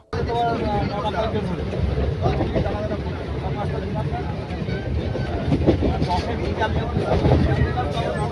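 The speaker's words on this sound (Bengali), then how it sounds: "আর ট্রেনও ছেড়ে দিয়েছে" Bangaon local train in motion, a steady broadband rumble and rattle of the carriage continuing throughout at close range, with wind buffeting and crowd noise from a packed compartment.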